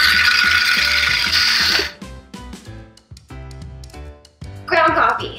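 Burr grinder crushing oily, dark Deathwish coffee beans in a loud, continuous mechanical whir for about two seconds, after which it stops and lighter clicking and handling noises follow, with a brief burst near the end.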